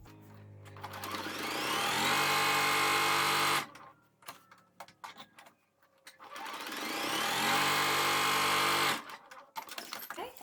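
Sewing machine quilting through the layers of a patchwork pot holder, two long bursts of fast steady stitching with a brief pause between, close and clear with no one talking.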